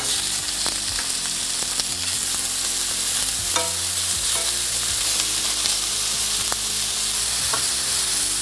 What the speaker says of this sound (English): get a second frying pan going on the side to speed up this process of browning the meat